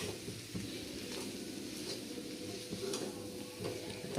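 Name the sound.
potatoes sautéing in oil with turmeric and salt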